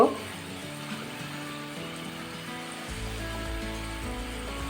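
A maida flour snack deep-frying in oil until reddish and crisp, a soft steady bubbling sizzle throughout, with a low hum joining partway and no talk over it.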